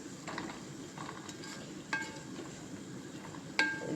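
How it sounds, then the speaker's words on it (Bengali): Jijir shak, a leafy green, stir-fried in a pan: a steady close sizzle with a couple of brief metallic clinks of a utensil against the pan. "আজকে জিজির শাক ভাজি করি।"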